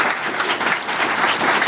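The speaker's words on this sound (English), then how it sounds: "I think we should give our candidates another round of applause for their participation tonight." An audience at a mayoral candidate forum in Cleveland claps for the candidates, a brief, loud burst of steady applause filling the room.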